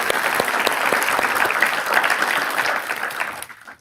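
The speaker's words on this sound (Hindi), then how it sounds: "उसके लिए भी तालियां." Audience applause at a Pariksha Pe Charcha student event in India, a dense burst of many hands clapping, loud and sustained for over three seconds before fading out quickly.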